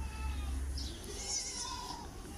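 At a goat market in Ras Al Khaimah, UAE, goats give soft, wavering bleats against a low ambient rumble. The calls are fairly faint and nearby, with no speech.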